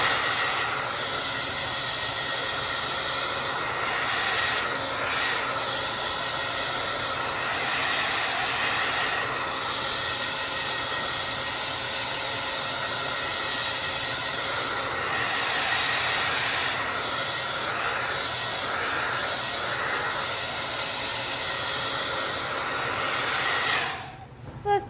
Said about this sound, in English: I'm gonna blow this dry just because I don't want that blue getting sucked in off my brush